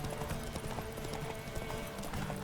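Horse hooves clip-clopping in the video game The Witcher 3: Wild Hunt, a steady rapid run of hoof beats at moderate loudness under game ambience, with no talk.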